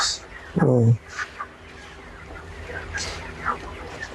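A chicken on a poultry farm of about fifteen hundred birds gives one loud, close cluck, followed by softer clucks and faint bird sounds over a low background hum.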